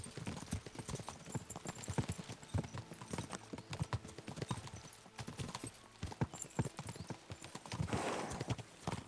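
Many hooves pound rapidly in a dense, rolling gallop, close and continuous, with a horse's whinny rising briefly near the end, from the video game Kingdom Come: Deliverance II.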